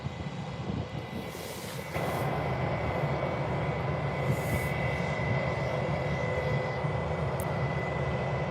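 An airliner lands at Birmingham airport with a broad, steady engine roar. The roar jumps louder about two seconds in and holds strong and close, with a faint tonal whine above it and no speech.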